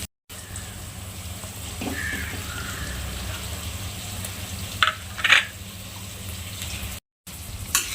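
Mashed potato and peas sautéing in oil for mini samosa filling, a steady low sizzle with soft stirring scrapes, a couple of sharper clatters near the end and brief silent gaps.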